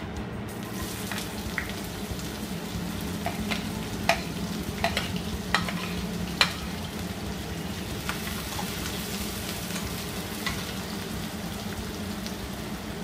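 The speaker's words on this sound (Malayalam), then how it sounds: "ജീരകം ചൂടായി, ഇനി ഉള്ളി ചേർക്കാം." Onion frying in hot oil with cumin seeds while being stirred, a steady close sizzle with scattered clicks of a utensil against the pan, with no talking throughout.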